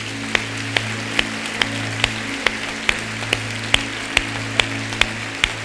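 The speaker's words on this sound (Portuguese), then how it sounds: "Vamos aplaudir ao Espírito Santo de Deus." In a church, the congregation claps in a slow, even rhythm, each crisp clap standing out over a steady low electrical hum, with no speech.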